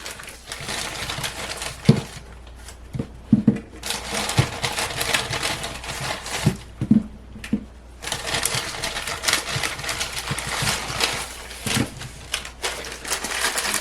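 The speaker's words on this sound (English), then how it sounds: "We're not going to cook all these baby potatoes, just a few. But we're going to cut them in half." A knife cuts baby potatoes in half on a board, giving irregular sharp taps and thuds amid a steady busy kitchen background, close and fairly loud with no talking.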